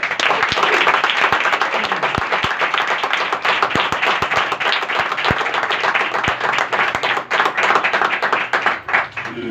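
Loud applause from a gathering at a Christian sermon, with close, sharp individual claps standing out over a thick bed of crowd clapping that carries on strongly throughout.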